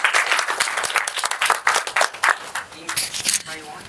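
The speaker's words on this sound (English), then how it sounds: "a big round of applause for Jitendra once again." A crowd applauds steadily, dense clapping filling the whole stretch at a lively, even level.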